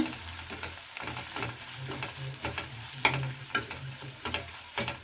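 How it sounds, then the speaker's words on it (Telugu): Onions and chili powder are stirred in a frying pan, a spoon scraping in steady, irregular strokes over a soft continuous sizzle, close up with no voices. "నేను ఒక స్పూన్ కారం వేస్తున్నాను ఒకసారి బాగా కలిపేసుకోవచ్చు"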